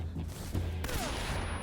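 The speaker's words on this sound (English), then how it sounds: "So now we can stun grenade them." A stun grenade goes off in Metal Gear Solid, a dense burst of game gunfire-like bangs heard continuously over steady game ambience, with no speech.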